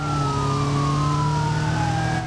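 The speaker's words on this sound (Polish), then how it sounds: "Syreny ucichły nieco." Emergency vehicle sirens in the driving game BeamNG wail loud and steady throughout, with sliding tones sweeping over a constant engine-like drone.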